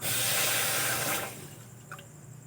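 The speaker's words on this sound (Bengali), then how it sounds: "এক বাটি জল আমি দিয়ে দেব।" Water pours into a pot of sugar for making syrup, a loud, steady splashing rush that stops after about a second. A quiet hiss and a few light clinks follow.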